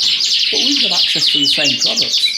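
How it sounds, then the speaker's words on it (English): Yorkshire canaries sing continuously in a bird room, a dense bright warbling of trills and chirps, loud and close, while someone talks over the song. "And you can hear the birds singing away now."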